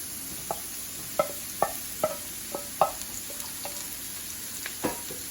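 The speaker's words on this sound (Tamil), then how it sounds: "உருளைக்கிழங்கு ஓரளவு பொரிஞ்சு வந்துட்டுது. இனி அதுக்குள்ள கத்திரிக்காய் ஆட் பண்ண போகிறேன்." Potato pieces fry in hot oil with a constant close sizzle, punctuated by a series of light clinks and scrapes of a spatula as eggplant is added and stirred.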